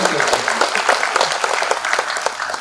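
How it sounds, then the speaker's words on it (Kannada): Dense, steady applause from a seated audience at a public felicitation event, many hands clapping loudly and continuously throughout with a faint murmur of voices beneath. "ಅವರಿಗೆ ನಿಮ್ಮೆಲ್ಲರ ಅಭಿನಂದನೆಗಳೊಂದಿಗೆ ಚಪ್ಪಾಳೆ ಮೂಲಕ ಸಲ್ಲಿಸಬೇಕು"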